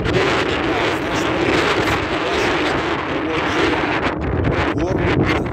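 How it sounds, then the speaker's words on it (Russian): Strong, steady winter wind high on the top floors of a Yekaterinburg skyscraper roars and buffets the microphone throughout, a dense continuous rush with no pauses. "потому что лютый дует ветер"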